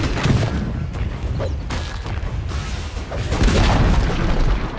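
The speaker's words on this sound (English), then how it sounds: "Dire's middle tower has fallen." A defensive tower in Dota 2 is destroyed amid a dense, continuous barrage of booming crashes and thuds from battle, loud and close, with no talking.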